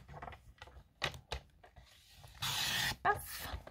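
Paper or card being cut for a handmade gift box, giving short crisp snips and rustling handling noises close by, with a louder scraping cut near the end and soft talk between the sounds.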